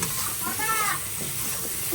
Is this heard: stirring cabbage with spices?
yes